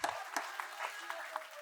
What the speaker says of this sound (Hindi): तो मैं चाहती हूँ एक बार जोरदार तालियां हो रविकांत जी।